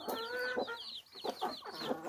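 A tame young chicken on a farm clucks repeatedly at close range, giving a steady run of short, nasal calls with a few louder squawks, and no talking over it.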